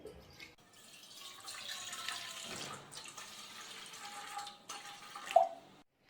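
Water is poured into a large pot holding a steaming stand, a steady splashing and trickling that rises and falls over several seconds before a brief clink and then silence.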